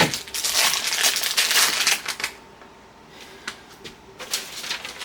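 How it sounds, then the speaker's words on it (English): Scissors snip and crinkle through plastic packaging of black sublimation ink for an Epson ET-4800 printer, several close crisp cuts with a short pause between bursts. "I'm going to cut it open with my scissors"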